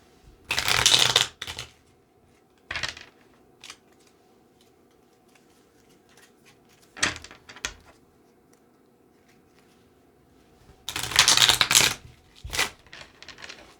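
A tarot card deck being shuffled in several separate bursts, crisp riffling rattles that come and go with quiet pauses between, close and clear with no talking.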